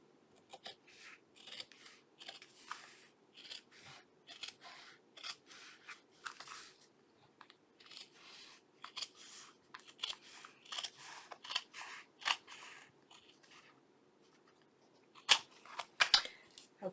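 Scissors snip through cork paper in a long series of crisp, close cuts, irregular in pace with brief pauses, followed by a few louder snaps near the end.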